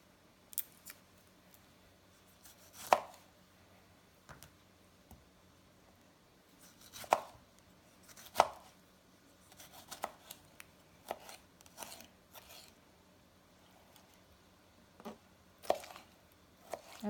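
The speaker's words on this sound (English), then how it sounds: "And while we're cutting our tomatoes, our meat is cooking with the potatoes and the garlic and the onions." A knife slicing fresh red and green tomatoes for carne asada gives sparse, crisp cutting clicks and scrapes, quiet and close, spaced irregularly with soft pauses and no talking.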